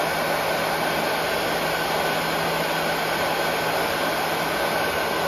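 A heat gun blows steadily and loudly at close range, a continuous airy roar with a faint steady hum, used to heat a metal spinner blade held in pliers before powder painting.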